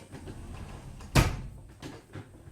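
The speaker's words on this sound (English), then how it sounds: "I'll close the door" A single muffled thud of a door shutting lands in a quiet room, with faint shuffling before and after.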